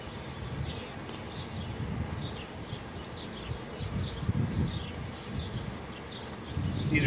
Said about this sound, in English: there's adult bees